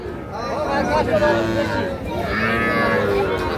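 Young calves at a busy village cattle market let out loud, drawn-out moos, one after another, over a background of crowd chatter and nearby voices.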